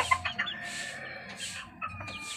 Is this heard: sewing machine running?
no